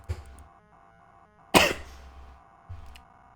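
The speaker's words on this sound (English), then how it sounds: "So if I cough or anything, I'm sorry." A person with a cold gives one sharp, close, loud cough, followed by a softer throat-clearing sound, with quiet pauses between and no talking.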